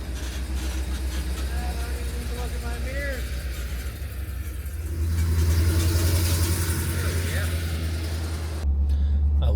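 A pickup truck carrying a camper backs out of a driveway with a steady, close engine rumble at idle. The rumble swells and grows louder partway through, then holds.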